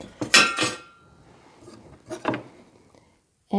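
Metal cutlery and a small spatula clink and clatter as they are handled for cast-iron pancake cooking outdoors, two short bursts of rattling with quiet between and a sharp knock at the end.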